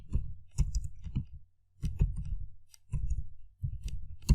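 Names typed on a computer keyboard into a Microsoft Word document: bursts of close, quick key clicks in short runs separated by brief pauses, with no voice over them.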